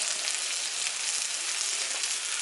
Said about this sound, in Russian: Все, морковка с луком хорошо обжарилась